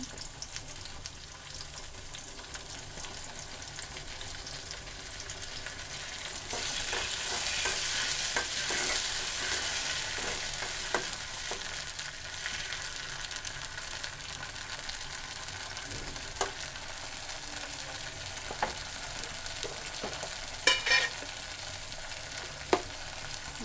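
Fish curry cooking in a pan with green chili paste and spices, a steady sizzling fry with occasional scrapes and stirring clicks of a utensil, close and continuous.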